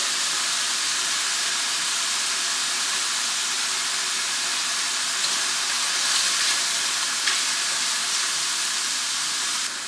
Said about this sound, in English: I'm now going to go in with the shallots.